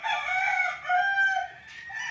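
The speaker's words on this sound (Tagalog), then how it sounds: "dito pala nagtitrain sila ng mga manok" Gamefowl roosters crow at a game farm beside a small training cockpit in Liliw, Laguna: one long, fairly close, loud crow that stretches over the whole moment, with a second call overlapping near the end.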